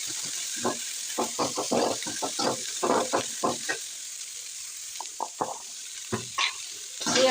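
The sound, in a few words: sautéing dried chillies, garlic and onion in a pan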